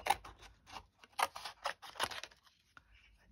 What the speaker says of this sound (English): I will fussy cut one flower on camera